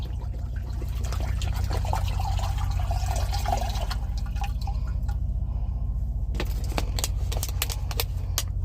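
Water pours into a pot for lime cilantro rice, a splashing fill that runs for several seconds, then gives way to a few sharp clinks and knocks against a constant low rumble in a truck cab.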